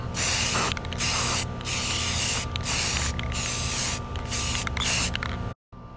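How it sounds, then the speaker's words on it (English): Short bursts of aerosol spray paint hiss loudly and close up as a small round bowl is coated for a Statue of Liberty costume, with a clicking nozzle between the repeated sprays. "We're gonna spray paint it."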